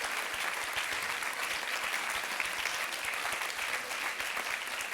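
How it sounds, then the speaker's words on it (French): An audience at a short-film festival closing ceremony claps steadily, a dense, even wash of applause lasting several seconds with no voices on top. "Donc on peut l'applaudir, elle aussi."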